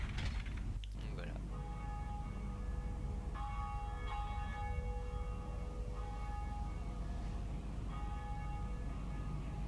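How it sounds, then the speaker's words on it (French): The first bell rung in the Dark Souls video game, a sustained metallic church-bell tone with repeated strikes and ringing overtones, fairly faint and steady throughout. "première cloche sonnée"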